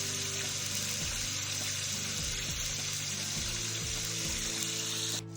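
Chicken frying with ginger garlic paste for karahi gives a steady, broad sizzle that stays loud and even, with a few faint scrapes of stirring, until it cuts off at the very end.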